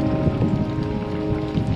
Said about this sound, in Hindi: अभी भी हो रही है बारिश